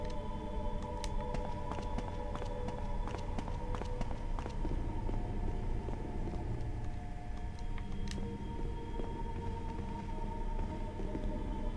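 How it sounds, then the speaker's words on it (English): Footsteps echo through a mansion hall in the video game Resident Evil Remastered, a run of sharp repeated taps over a constant low ambient drone and music bed, fairly faint and steady. "I can hear footsteps."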